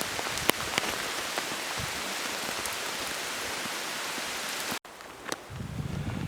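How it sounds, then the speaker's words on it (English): Heavy rain pours down steadily on an outdoor coastal walking route near Marske, a dense continuous hiss with scattered drop impacts, shifting briefly near the end as a low rumble of wind or handling noise rises underneath. "still raining, pouring down"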